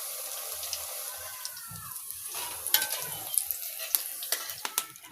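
Pakoras frying in a pan of hot oil (ghee) in a home kitchen, a steady soft sizzle with occasional stirring clatter and light clicks growing more frequent toward the end, no talking.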